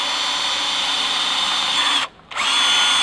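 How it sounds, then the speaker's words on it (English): A power drill bores holes into a vehicle base plate, its steady high whine running continuously and loud, cutting out briefly for a moment before spinning up again. "So I'm going to drill these out first and then open them up with a larger drill bit later"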